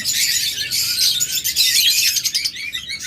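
Caged lovebirds and cockatiels chirp close by in a continuous, busy chorus of shrill tweets and squawks, with no voices.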